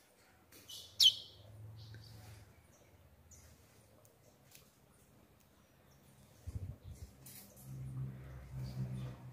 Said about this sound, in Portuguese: um passarinho filhote, novinho